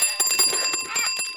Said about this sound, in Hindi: अभी तो साइकिल की घंटी बजी थी।